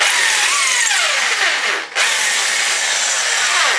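A power drill bores out M6 threaded holes on a motorcycle chain guard, a loud continuous high whine with pitch sweeping as the bit bites, briefly dipping mid-cut before resuming steadily.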